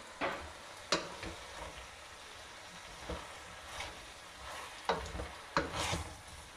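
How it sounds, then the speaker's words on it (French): Vegetables and tomato for ratatouille fry gently over low heat in a pan, with a soft sizzle broken by several sharp scrapes and clacks as a utensil stirs them, close and fairly quiet. "Je remue régulièrement."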